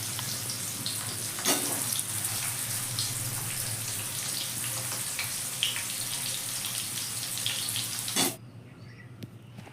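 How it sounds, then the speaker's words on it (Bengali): Boiled potatoes coated in salt and turmeric fry over a high flame in a biryani preparation, a steady close sizzle with a few sharp stirring knocks before it cuts off near the end. "তো দেখো আলুগুলো এখন ভেজে নিচ্ছি"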